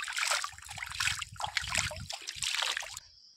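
Water splashing and trickling as a face is washed outdoors, several uneven bursts of splashing close to the microphone that stop abruptly near the end.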